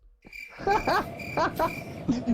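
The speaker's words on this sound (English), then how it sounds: "I'm playing crickets and tumbleweed noises" Cricket chirps and croaky, frog-like calls from a sound effect played during a live online show, with several short repeated chirping bursts over a faint hiss and no talking.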